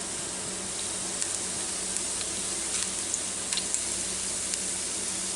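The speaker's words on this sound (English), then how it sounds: "That stuff's just a sizzling away." Barbecued short ribs sizzle steadily inside a Ninja Foodi cooker just after the lid is raised, a close, continuous frying crackle with scattered sharper pops throughout and no talking.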